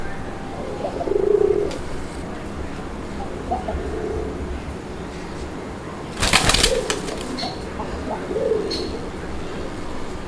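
A Raj Golla pigeon coos in low, short phrases against a hum of background noise, with a brief flutter of wings midway and faint chirps around.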